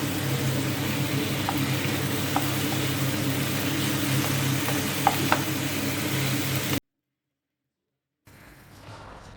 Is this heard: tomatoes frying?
yes